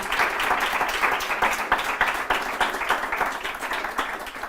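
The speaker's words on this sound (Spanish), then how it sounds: "yo de momento le daría un aplauso a los invitados" An audience applauds the guests at a panel on virtual fashion and the metaverse, a steady patter of many hands clapping at moderate level, fairly close and continuous throughout.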